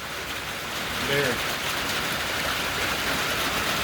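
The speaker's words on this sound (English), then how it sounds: "you can hear the rain on the metal roof" Steady rain patters on a metal roof as a dense, even hiss that fills the whole stretch, with a brief low voice murmuring underneath.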